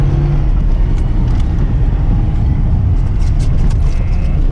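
A Lada Zhiguli car drives over a rough, bumpy road. Its loud, heavy engine rumble and road roar continue without a break, mixed with faint knocks and rattles from the body.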